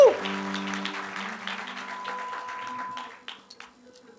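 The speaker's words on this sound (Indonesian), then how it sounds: "Kita berikan tepuk tangan buat Tuhan Yesus." A church congregation claps during a worship service, broad sustained applause mixed with a sustained musical tone and some voices, fading out over the final second.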